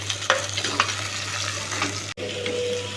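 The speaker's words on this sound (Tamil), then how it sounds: "அதுக்கப்புறம் அதில் வெங்காயம், தக்காளி, பச்சை மிளகாய் பக்கம் வறுத்துடணுமா." Onion, tomato and green chili fry in a pan for South Indian village fish curry, giving a steady close-up sizzle broken by scraping stirs, a low electrical hum beneath and a momentary dropout partway through.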